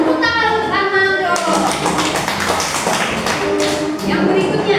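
A class of children claps for a classmate named Armando during a civics lesson. Sharp, rhythmic claps begin after a voice and continue steadily and loudly, close by, with voices mixed in.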